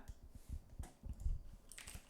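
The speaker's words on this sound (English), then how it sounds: "I was typing to the other team on Discord" Quiet keystrokes clack on a computer keyboard while someone messages the other team on Discord during an online esports match. The taps are soft, close and irregular, with no voices over them.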